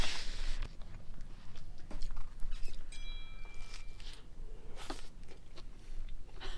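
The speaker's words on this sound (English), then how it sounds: "listen to that crunch." Crisp crunching bites of a pizza cup made with naan bread, a few irregular crunches close up over light background rustle.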